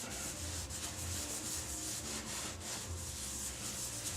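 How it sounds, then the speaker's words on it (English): Steady close rubbing of polish being buffed onto a spalted oak vase, a continuous dense friction hiss with a low motor hum beneath, loud and unbroken throughout with no talk. "and then buff it"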